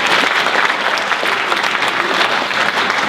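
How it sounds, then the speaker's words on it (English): Steady, dense clapping fills the room as an audience applauds at a high school National Honor Society induction ceremony, loud and continuous without pause. "we will clap for her"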